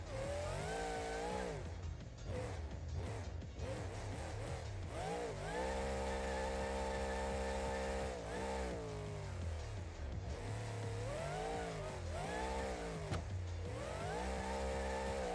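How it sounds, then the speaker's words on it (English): The Metal Militia monster truck's engine in BeamNG.drive drones loudly and steadily, revving up and down in long rising and falling sweeps with no talking over it. "That's my favorite monster truck, Metal Militia."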